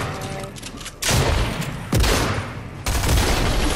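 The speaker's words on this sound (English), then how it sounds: "He's shooting at you, London." Heavy video game gunfire in a squad match, three loud broadband bursts of shooting that each start abruptly and trail off, with a brief quieter gap between them.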